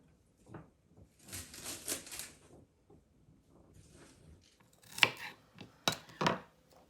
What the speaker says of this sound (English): cut what we call the foot of the asparagus